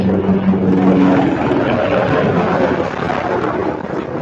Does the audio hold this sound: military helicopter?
yes